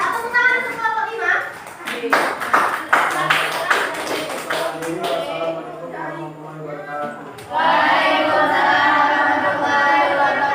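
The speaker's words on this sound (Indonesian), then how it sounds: "Tepuk tangan untuk kelompok 5." A classroom of schoolchildren claps for a student group in an Indonesian lesson, a scattered burst of hand claps mixed with children's chatter, followed by a louder, steadier stretch of group clapping near the end.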